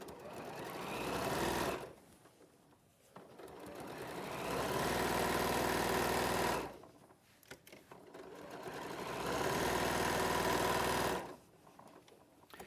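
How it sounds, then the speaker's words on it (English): A sewing machine runs a quarter-inch seam along the top edge of a quilt pocket in three steady bursts of whirring stitching, separated by short pauses. "I'm going to sew along that top edge with a 1/4 inch seam"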